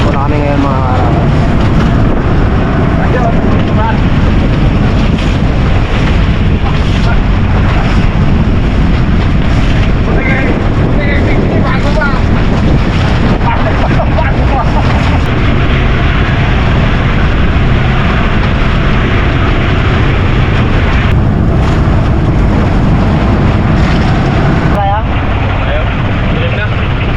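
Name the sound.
boat riding through big waves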